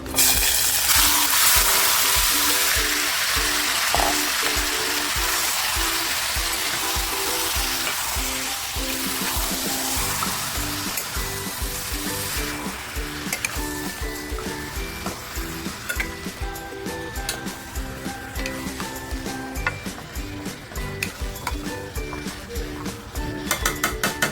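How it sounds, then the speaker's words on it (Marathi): Marinated mutton hits hot oil with a loud, bright burst of sizzling that settles into a steady close crackle, broken by rhythmic clinks and scrapes of a spoon against the pan. "आता जे मॅरिनेट केलेलं मटण आहे ते मी ह्याच्यामध्ये थोडस हलकंसं फ्राय करून घेते"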